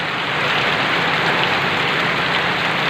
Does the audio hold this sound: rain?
yes